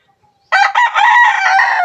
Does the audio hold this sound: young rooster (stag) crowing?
yes